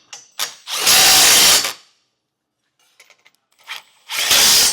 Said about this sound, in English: Now we can tighten everything down with a 19mm socket.